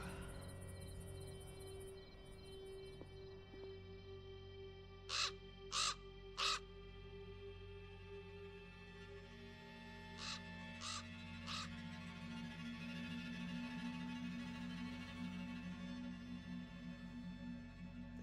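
A raven caws in Black Mirror II, three sharp bursts near the start and three more midway, heard over a steady low ambient hum with insect-like chirring.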